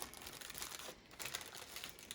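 A plain plastic bag colored with marker crinkles softly and continuously close by, faint papery rustles with small uneven crackles.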